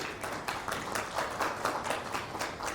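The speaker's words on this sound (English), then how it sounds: "Can we have a round of applause for sir" An audience at a medical lecture applauds to welcome a senior professor of clinical hematology, with steady, moderately loud clapping that carries on evenly and no talking.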